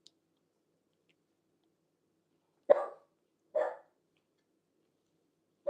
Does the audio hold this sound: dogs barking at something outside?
yes